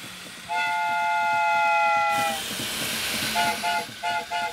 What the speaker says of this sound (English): The choo-choo!